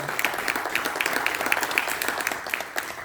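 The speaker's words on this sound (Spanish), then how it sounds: "Dale un fuerte aplauso al Señor." Church congregation applause during a sermon, steady rapid clapping from many hands filling the room at a consistent level throughout, with a few voices faintly mixed in.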